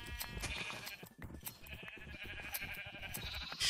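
Minecraft sheep bleat repeatedly in a game world, several wavering calls close together over an active mix of game sounds, with no speech.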